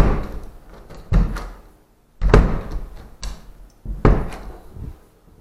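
A door in a nearly finished house in America that won't close because of where a baseboard heater goes, giving a few sharp knocks and thumps as it is pushed and bangs against the obstruction, close by with no talk.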